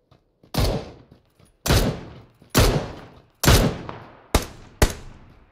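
Gunfire in the video game PUBG: six sharp, loud shots spaced about a second apart, each cracking abruptly and ringing out with a short echoing decay.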